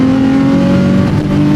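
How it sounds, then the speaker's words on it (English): A Nissan 350Z HR with a repaired exhaust leak drives under load, its engine producing a loud, steady, close-up drone with a strong, even tone and no voices. "Now that I fixed the exhaust leak, it's actually like way more enjoyable to drive."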